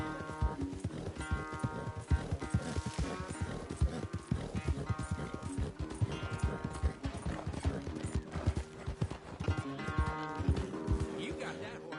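Horse hooves clip-clop steadily in the Red Dead Redemption 2 video game, a continuous moderate rhythm mixed with background game sounds and voices talking.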